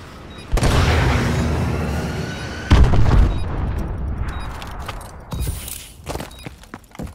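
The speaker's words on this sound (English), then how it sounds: "Friendly missile strikes inbound." Heavy missile strike explosions in the video game Call of Duty: Advanced Warfare, with three loud booming blasts at intervals, each rumbling and tailing off, plus scattered debris and gunfire-like crackle between them.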